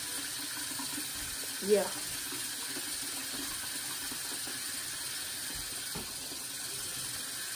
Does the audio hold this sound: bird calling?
no